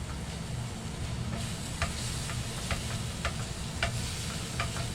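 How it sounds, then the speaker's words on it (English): Cooked taco meat stirred in a pan with a utensil, soft sizzling under a few distinct scraping taps, fairly quiet and close, no talking. "Give this a good stir."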